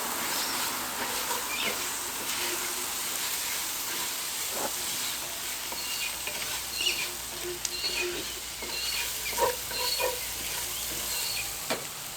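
Risotto rice is stirred and toasted in hot oil at a camp cooking setup, a steady soft sizzle and hiss with scraping stirs, close and fairly quiet, no talking.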